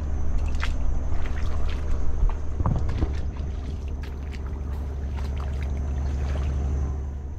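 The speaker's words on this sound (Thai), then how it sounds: "เรือประมงทะเลลึกครับ" A deep-sea fishing boat's engine drones low and steady throughout, with wind buffeting the microphone and scattered light splashes and clicks over the constant hum.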